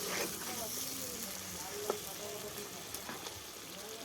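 Fried prawns stirred in a sizzling pan for chingri malai curry: a soft, steady crackle and hiss of frying oil, fairly quiet, with one sharp clink of utensil against pan partway through.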